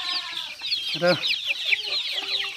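Local village hens and their chicks, kept in partitioned pens, fill the air with close clucking and a steady stream of high chick peeps, with one louder hen call standing out midway.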